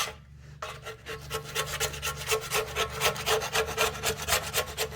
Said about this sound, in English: just cleaning the old gasket off. A good old Stanley scraper.